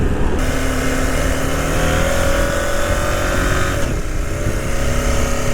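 A 2023 KTM 890 Adventure motorcycle ridden hard, its engine droning loud and close with a steady, continuous tone and slight pitch shifts as it pulls along, with brief gear-shifting changes midway.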